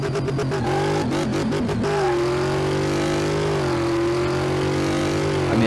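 Car engine revving in Car Mechanic Simulator with a Camaro or Mustang, a loud sustained engine drone with a few quick throttle blips at the start, then a steady high rev.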